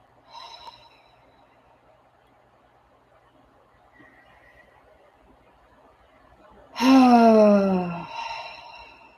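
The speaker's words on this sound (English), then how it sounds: "Taking some deep breaths into my belly" Deep belly breathing: a soft breath at the start, then quiet, then a loud, long exhale with a throaty, voiced groan that fades over about a second, close to the microphone.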